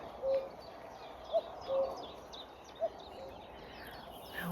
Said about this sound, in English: oh listen, cuckoo, it's near, we're nearer the cuckoo